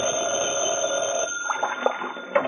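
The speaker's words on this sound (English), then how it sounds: "the phone rang" A telephone bell rings as a radio-drama sound effect in an old-time detective serial, a steady trilling ring under a constant high tone, fading into quieter clatter as it stops.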